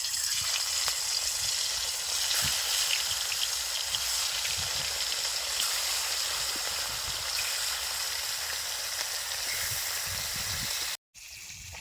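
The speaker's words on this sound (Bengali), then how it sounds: "মাছ ভাজা হইতে হইতে" Fish rubbed with salt and turmeric fries in hot mustard oil in a wok, a steady close crackling sizzle that runs unbroken for the whole stretch, cut off briefly near the end, with no talk.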